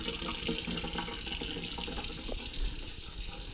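Cool tap water runs steadily from a faucet into a cup, a continuous splashing hiss heard close and alone with no talking.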